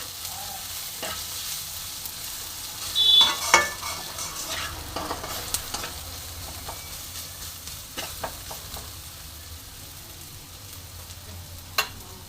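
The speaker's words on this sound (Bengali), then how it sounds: "এবার আমি কিছু মশলা দেব, দিয়ে ভালো মতন কষবো।" Spices with salt and turmeric are stir-fried for a tangy, spicy katla fish curry: a quiet, continuous sizzle broken by soft scraping and tapping of a spoon working the masala, fairly faint overall.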